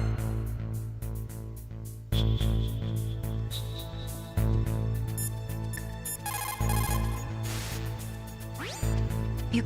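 A Metal Gear Solid codec call rings in repeated electronic trilling bursts over steady game background music, loud and close, with no voices.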